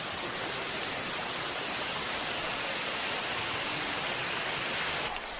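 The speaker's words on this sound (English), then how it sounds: "the sounds of the falls echoed through the canyon" Dense, unbroken roar of Risco Waterfall in Madeira echoing through a canyon, a steady wash of noise filling the space without pauses.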